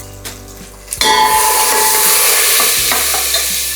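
Ginger garlic paste and turmeric land in hot oil for Puneri misal, setting off a loud, steady sizzle after a few soft knocks, with stirring scrapes running through the frying.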